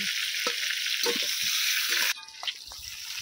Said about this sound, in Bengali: পটলগুলোকে আমি খুব ভালো করে লাল লাল করে ভেজে নেব।